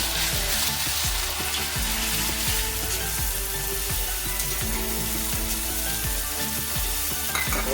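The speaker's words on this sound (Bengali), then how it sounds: "তারপর জিরে বাটা, একটু ভালো করে নেড়ে নেব।" Chicken fries with ginger and cumin paste in a pan for Bengali-style chicken kasha, a loud continuous sizzle with repeated scraping stirs close by and no speech.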